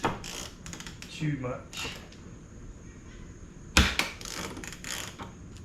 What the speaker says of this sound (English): Hopefully, as we undo these bolts, this doesn't shift